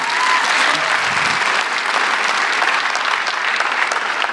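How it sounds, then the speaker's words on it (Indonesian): Steady audience applause fills a stand-up comedy show stage, dense and even throughout the whole stretch without voices on top. "Tepuk tangan teman-teman."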